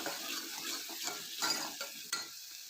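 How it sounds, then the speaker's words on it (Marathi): Vegetables and turmeric sautéing in a pan, a soft continuous sizzle broken by scraping stirs and a clink of utensil on metal, heard up close with no talking. "त्यात आपण थोडीशी हळद टाकणार आहोत आणि ती व्यवस्थित परतून घ्यायची"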